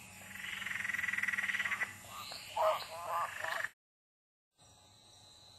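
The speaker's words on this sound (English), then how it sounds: "What a gorgeous little frog he is" A small frog croaks in a backyard, a rapid pulsing trill followed by a few shorter croaks, close and clear, then a brief silence.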